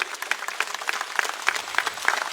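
Sustained clapping from a crowd at a village political rally in Maharashtra, a thick, even wash of many hands heard close and loud throughout, without voices.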